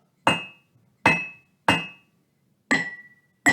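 Four sharp taps on a ceramic cup, each ringing briefly with a clear tone, spaced about a second apart, then a fifth tap cut short.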